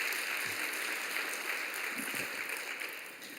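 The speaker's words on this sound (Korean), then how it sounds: "우리 박수로 격려하시길 바랍니다" Sustained applause from a church seminary gathering fills the room, a dense steady clatter of clapping that fades slightly toward the end.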